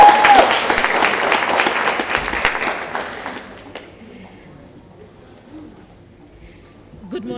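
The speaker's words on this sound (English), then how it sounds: "please help me welcome Dr. Precious Motsepe" Applause welcomes Dr. Precious Motsepe at an International Women's Day event held by the Motsepe Foundation, loud and dense for about three seconds before fading into quiet room noise.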